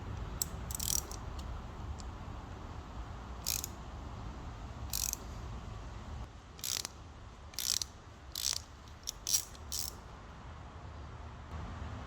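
A ratchet wrench clicks in short bursts, roughly ten quick zipping runs, close and fairly loud, as it loosens a rusty bolt on the radiator of a 2003 Mazda Protege5.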